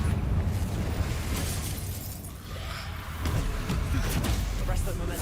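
A Confringo spell explosion in Hogwarts Legacy, heard as dense rumbling bursts and crackling debris filling the whole clip, with a voice speaking over the game sounds.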